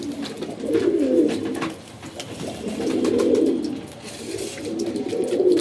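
Domestic pet pigeons coo in repeated low, throaty bursts, three rounded phrases close by with brief pauses between them, heard alone without talk.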